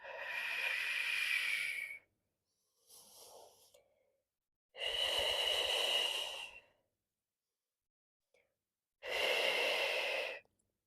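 Three long, loud exhales during a back extension exercise, each about two seconds of close breathy hiss, separated by quieter, softer inhales and near silence.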